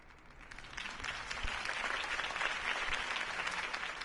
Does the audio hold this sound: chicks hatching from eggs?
no